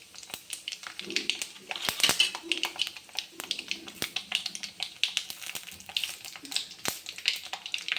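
Cumin seeds go into hot oil along with fenugreek seeds, crackling and popping in quick, irregular sharp taps over a soft, steady sizzle, close and fairly loud.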